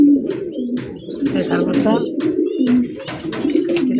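A pair of large Madrazi golla pigeons, male and female, coo continuously and loudly up close, with a steady low warble and repeated sharp calls, while someone speaks over them.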